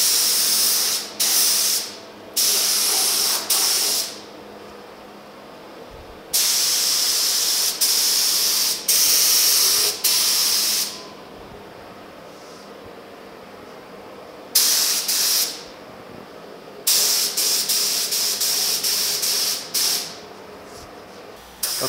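A paint spray gun lays base coat on the bed, tailgate and running boards of a 1950 Chevy truck, with long, loud bursts of steady hissing spray separated by short pauses.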